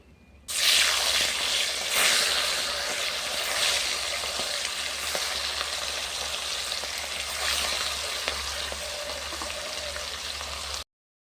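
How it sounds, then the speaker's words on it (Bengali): River bata fish fry crisply in hot oil over a clay stove, a loud, dense crackling sizzle that holds steady for about ten seconds with scattered pops and a low hum beneath. "মাছগুলো কিন্তু ভালো করে কড়া করে ভেজে নিয়েছি"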